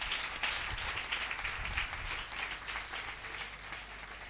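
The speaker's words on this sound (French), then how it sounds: "clap for the Lord?" A church congregation at a special Sunday service claps for the Lord, a steady ripple of applause from many hands, moderately distant and continuous without speech.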